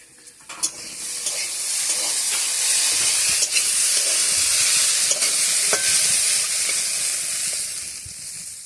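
Close, steady sizzling and hissing comes from potatoes cooking in a pan, broken by scattered scraping stir strokes and small clinks, with no talking throughout.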